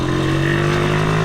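Motorcycle engine on a road trip, a loud steady close-up drone with a constant low hum and no break across the moment.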